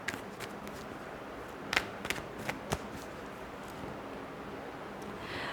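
Tarot cards being shuffled quietly and close, soft papery riffles with a few sharper flicks and taps against a faint room hiss.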